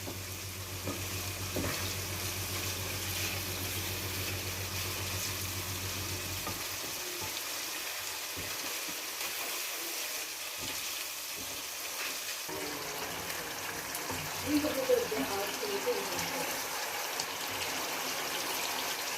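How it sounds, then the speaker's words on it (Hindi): Steady sizzling of a spice paste frying in a pan for chana chawal, with a splash as a glass of water goes in, then softer bubbling and stirring noises close by. "1 गिलास पानी का डाल दिया इसमें मसाले में भूनने के लिए"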